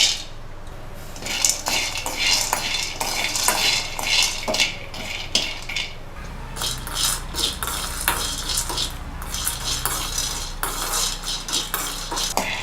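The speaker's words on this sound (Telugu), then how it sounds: "ఇవన్నీ ఫ్రై చేస్తా అండి." Peanuts and whole masala ingredients fry in a pan for a tomato egg curry, with loud, busy rattling and scraping of a utensil stirring against the metal over a light sizzle throughout.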